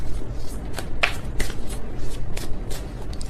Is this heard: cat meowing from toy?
no